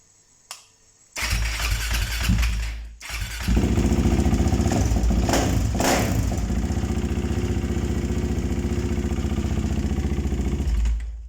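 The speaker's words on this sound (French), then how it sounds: "la moto est nickel, je vais la démarrer, c'est un peu dans la maison" A Husqvarna 701 SM single-cylinder motorcycle is started indoors inside a house, with a brief crank, a catch and a loud, steady close idle that carries on to the end with no talking.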